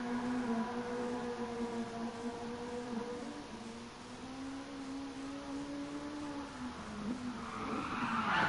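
Tires squeal as a car slides through a turn in the racing game Rally GT sport. The long, whining, tonal skid runs under a steady engine drone and swells louder near the end.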